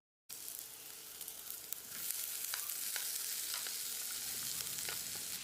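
Boiled, peeled and mashed potato sizzling in a hot pan as it fries for a potato kurma, a steady close frying hiss that swells louder after a couple of seconds, with small scraping stirs and no talk.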